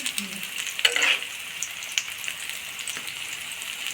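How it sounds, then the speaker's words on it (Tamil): Veg cutlet shallow-frying in hot oil, giving a steady, fairly quiet sizzle and crackle throughout, with a few sharper pops and clicks near the start and no voices. "இதை நல்லா இந்த மாதிரி பாருங்கள் திருப்பி விட்டுக்கலாம் நல்லா கிறிஸ்பாக வேகணும்"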